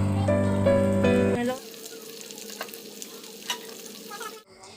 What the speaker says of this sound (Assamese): এতিয়া মই এইখিনি কম জুইত ভাজি ল'ম।